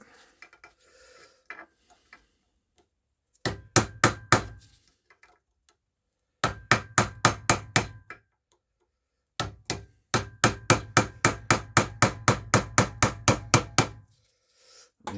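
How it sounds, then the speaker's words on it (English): A pin punch struck with a hammer against a metal Classic Mini SPI inlet manifold, ringing metallic blows in rapid bursts of several hits separated by pauses, loud and close with no talk. "just catch on the lip of it with a pin punch"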